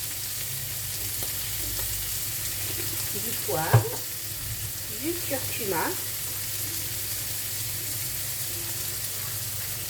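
Green beans cook in a pan with a steady, fairly quiet sizzle that runs throughout, while a person talks briefly over it near the middle.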